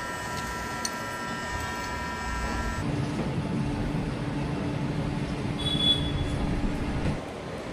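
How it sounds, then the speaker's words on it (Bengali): A toy train engine preparing to run in a green village setting, giving a steady mechanical rumble and hum with a faint high squeal, continuous and moderately close, with no talking. "এই টয় ট্রেনটা রেডি হয়ে গেল, এখন হয়তো চলবে টয় ট্রেনটা"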